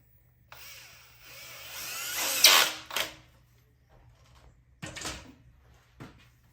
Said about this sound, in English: A drill with a hex bit makes quick work out of it.